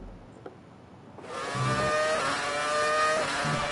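Race car engine in the F1 2019 game, Australian Grand Prix, quiet at first, then a loud, steady high-pitched engine scream rising and holding through the rest.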